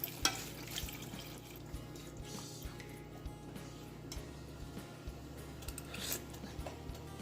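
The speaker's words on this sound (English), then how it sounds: "This is the 4th cup of water." A cup of water poured into a pot of seaweed soup (miyeok guk) makes a quiet, steady trickling wash with small drips and splashes scattered throughout, low in level and with no voices.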